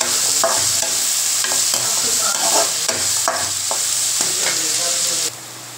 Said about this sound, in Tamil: ஒரு கைப்பிடி அளவு பூண்டு, வெங்காயம் நல்லா வதங்கட்டுங்க.